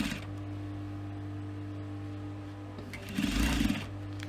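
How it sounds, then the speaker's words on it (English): A sewing machine top stitches a fabric cosmetic pouch with navy thread, giving a steady, close motor whir that swells louder for a brief stretch near the end. "I will top stitch it in a navy so that it's looking neater"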